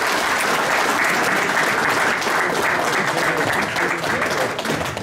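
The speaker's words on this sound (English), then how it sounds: "let's give a warm Pro Football Hall of Fame Luncheon Club round of applause" A luncheon club crowd at a Pro Football Hall of Fame event gives sustained applause, a full, steady roar of many clapping hands that fades slightly at the end.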